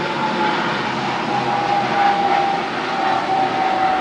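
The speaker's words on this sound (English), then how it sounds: "here's our planes." Airplanes pass overhead as a steady, loud broadband roar that swells gently and fades, with a thin tone running through it, outdoors with no voices.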